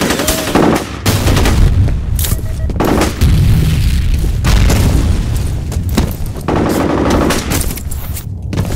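A loud grenade blast mixed with dense bursts of rapid gunfire in a chaotic video game firefight, booms and automatic fire overlapping close and continuous with no talking.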